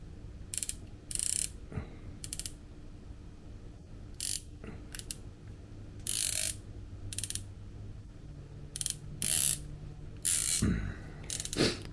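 Turrets on a Leupold Mark 5HD 5-25x56 riflescope turned by hand, giving short bursts of crisp, rapid ratcheting clicks separated by pauses, close and clear with no talking.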